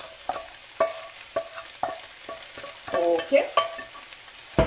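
Vegetables are stirred into a meat mixture sizzling in a pan, giving a soft frying hiss under repeated scraping stirs and clinks at an irregular pace, with a brief spoken word.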